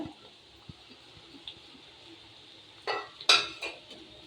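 Spoonfuls of chopped coriander stirred into thick spinach dal in a pot make a few soft scrapes and clinks of a ladle against the metal, with one louder stirring burst near the end over a faint background hiss.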